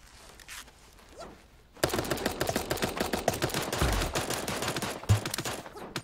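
Rapid automatic gunfire from a video game crackles in dense bursts, starting quiet and sparse before a loud, sustained volley of shots with a few heavier thumps, no talking over it.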